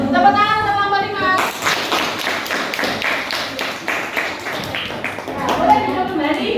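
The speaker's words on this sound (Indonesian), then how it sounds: "Tepuk tangan untuk kelompok 5." Students in a classroom clap for a student group, a burst of quick, fairly loud rhythmic hand claps from many people, with voices before and after.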